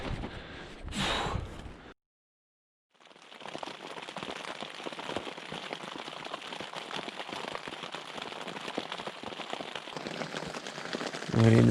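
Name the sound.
rain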